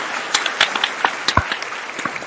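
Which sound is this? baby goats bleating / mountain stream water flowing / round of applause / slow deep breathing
round of applause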